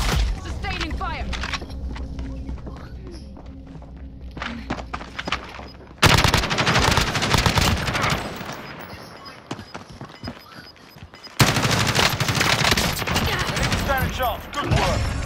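Sustained automatic gunfire in a multiplayer shooter match, dense rattling bursts that keep cutting in loudly and continuously, with a player talking excitedly over the shots.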